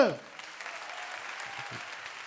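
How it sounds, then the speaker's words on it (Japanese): A crowd at a rap battle applauds the two MCs with soft, diffuse clapping that follows a brief loud burst at the start and stays fairly distant and even until the end. "まずは2人の MC に大きな拍手"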